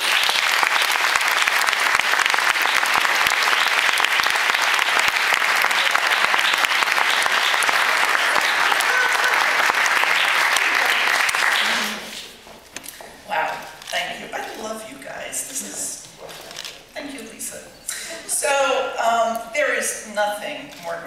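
Sustained, loud audience applause at a design award ceremony fills the first twelve seconds, then cuts off as a speaker begins talking at a podium.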